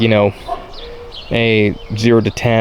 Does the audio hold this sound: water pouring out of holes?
no